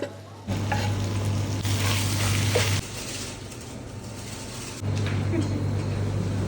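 Premium minced meat fries in a pan with smoked paprika, chili and beans for tacos, a close, dense sizzle with stirring scrapes, interrupted by a low rumbling hum that drops out in the middle and then returns.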